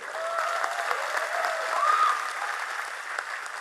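Sustained audience applause at a Madurese Islamic religious gathering with two kiai preachers, a dense steady clapping from a sizable crowd that holds throughout without talk over it.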